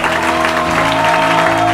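A church congregation applauds and cheers in praise of the Lord, a steady wash of clapping and crowd noise filling the room with sustained tones from music or organ beneath.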